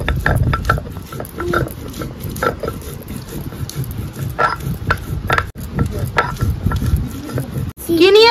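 Spices, green chillies and chopped ginger being ground into a fine paste, a steady gritty grinding rumble that runs throughout at close range, with voices talking over it in places.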